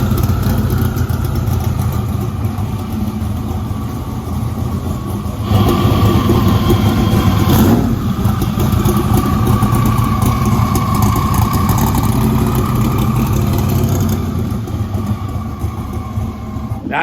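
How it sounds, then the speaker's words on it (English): A 700 horsepower drag car engine runs loud and steady, a dense low rumble with a rough, pulsing texture that holds for the whole stretch with slight surges, close by and without talk. "the engine's running really good"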